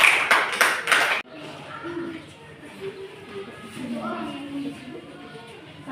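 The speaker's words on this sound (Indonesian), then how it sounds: "buat kelompok 2 berikan tepuk tangan" A classroom of students claps for a presenting group, a short loud burst of hand claps lasting about a second, followed by quieter room murmur and soft voices.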